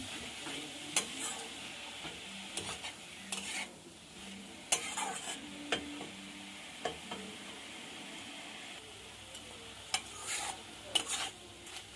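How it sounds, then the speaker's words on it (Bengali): Bathua greens are stirred together with potatoes and other vegetables in a pan: soft scraping and clinking strokes at irregular intervals over a faint, steady sizzle, close and quiet, with no voices. "বেতো শাকটা সবজির সঙ্গে মিশিয়ে নেব"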